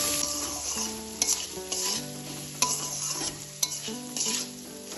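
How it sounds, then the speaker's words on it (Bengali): Spices and vegetables sautéing in oil for vegetable rice, a bright continuous sizzle with repeated scrapes and knocks of a stirring spoon in the pan, close up and without speech. "ভালোভাবে সবকিছুকে কষিয়ে নেব।"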